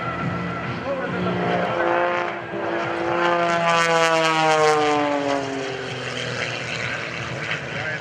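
A solo aerobatic airplane at an airshow, its propeller engine snarling and sweeping in pitch as it passes and pulls through manoeuvres, loud and near, with a commentator's voice over it.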